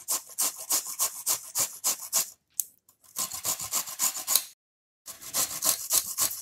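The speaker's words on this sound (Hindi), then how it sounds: "तो हम इस गोभी को ऐसे घिसेंगे, ये बहुत आसानी से हो जाता है।" Cauliflower rubbed against a fine grater, making fast, rhythmic rasping strokes in steady bursts, broken by two brief pauses, close and fairly loud.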